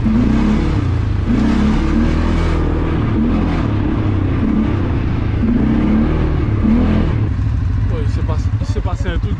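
A vehicle engine rumbles loudly and close, revving in repeated pulsing surges, with a voice talking over it and a rattling clatter toward the end.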